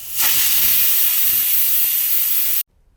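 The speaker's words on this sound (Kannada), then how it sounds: "ಲಿಡ್ನ ಕ್ಲೋಸ್ ಮಾಡಿಕೊಂಡು 2 ವಿಷಲ್ ಹೊಡಿಸ್ಕೊಳ್ಳಿ." Cooking chicken biryani, a pressure cooker lets out a loud steady hissing whistle of escaping steam close by, holding for over two seconds before cutting off abruptly.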